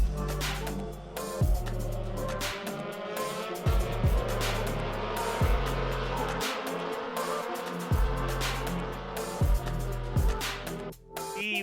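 Indy Pro 2000 race cars scream past on a road course, engines howling through repeated upshifts and downshifts, loud and close with a hissing wash of noise over the top.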